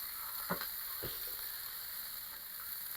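Burgers sear on an outdoor grill on a cold, rainy fall day, giving a faint, steady sizzling hiss with a couple of soft clicks near the start.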